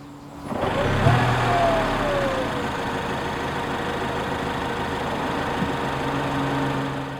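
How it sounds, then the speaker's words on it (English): A Honda CR-Z hybrid engine starts with a brief whir and settles into a quiet, steady idle hum, close by and fairly soft. "Press the start button and the engine springs to life, almost imperceptibly."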